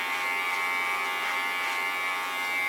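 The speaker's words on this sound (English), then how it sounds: "Just let the clipper do the work." An electric hair clipper running through long straight hair during a pixie cut, giving a steady close buzzing hum that holds evenly throughout, with no speech.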